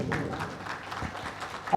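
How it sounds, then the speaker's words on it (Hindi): Steady applause from a crowd at a lecture, a dense wash of clapping that holds evenly for a couple of seconds before ending with one sharp tap. "एक बार तालियां बजाइए"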